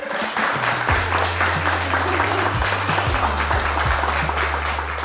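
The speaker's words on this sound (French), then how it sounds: "Que je vous demande d'applaudir ici sur le plateau" Studio audience applauds on the set of a televised creative competition final, a sustained, even burst of clapping with a low sustained musical tone running underneath.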